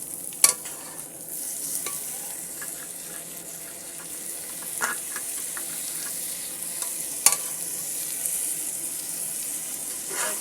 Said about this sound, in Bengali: নেড়ে দিচ্ছি আমি পোলার চালটা